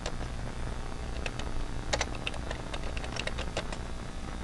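Password keys typed on a computer keyboard at a VMS system login, an irregular run of light, quick clicks over a steady low room hum, with no talking.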